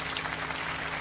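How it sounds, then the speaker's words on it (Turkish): A steady burst of dense applause from many hands, loud and continuous, plays as a sound effect in The Long Drive game. "şu anda alkış sesleri geliyor"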